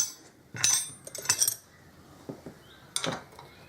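A spanner clinks against metal parts on a Harley-Davidson Deuce motorcycle: three short, bright metallic chinks, two close together early and one later, with soft handling rustles between them and no talking.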